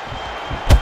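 A single heavy impact lands near the end of the clip, a low thud with a bright burst, as an uppercut punch connects in the Real Boxing video game, over a steady background hum.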